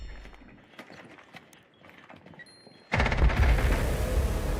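In Rainbow Six Siege, F2 rifle fire breaks out in a sustained rapid automatic burst after a quieter stretch of footsteps and small game sounds, loud and dense through the second half.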